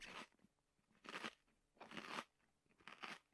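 Crunchy chewing from the video game Bad Parenting comes in four evenly spaced, crisp crackling bites, each lasting about half a second, separated by near silence and heard close and alone.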